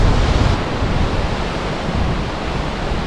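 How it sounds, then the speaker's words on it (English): Steady roar of ocean waves breaking on Norfolk Island, loud and close, a continuous wash of surf with no voices. "Ocean waves again, gorgeous."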